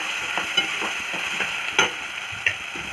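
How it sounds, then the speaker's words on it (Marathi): Finely chopped tomatoes go into hot oil in a pan for katwal bhaji, hissing in a steady sizzle with a few soft clicks and scrapes of stirring, close and alone. "हे दोन छोटे छोटे टोमॅटो मी कापून घेतले बारीक बारीक चिरून घ्यायचे छान आणि ते त्याच्यामध्ये टाकून"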